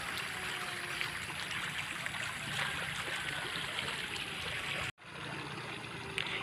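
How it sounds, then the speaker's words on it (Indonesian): A small river stream flowing, a steady, even rush of water close by, heard alone with a brief cut near the end. "sungai yang sebelah sana itu terlalu penuh, itu akan melewet ke sungai yang kecil"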